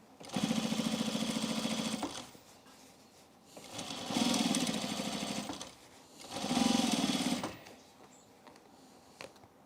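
A sewing machine stitches around a curve in three separate runs of a few seconds each, with short quiet pauses between them, loud and close.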